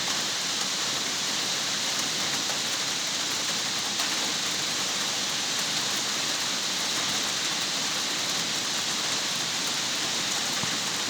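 Heavy rain patters steadily on a village house roof, a dense, unbroken hiss of drops with no voices.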